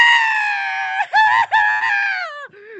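A human voice imitates a cat screaming in one long, loud, wavering wail that breaks and resumes a few times.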